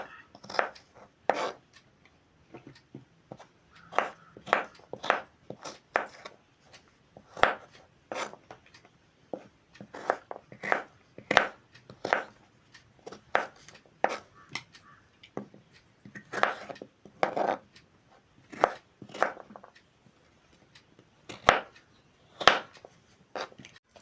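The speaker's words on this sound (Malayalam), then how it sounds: "ഈ അച്ചാറിന് നമ്മളിത് ഇങ്ങനെ അരിയണം, അച്ചാറിടാനായിട്ട്." Malabar tamarind (kudampuli) is chopped for pickle with a knife on a board, producing a series of crisp, close cuts in uneven bursts with short pauses between strokes.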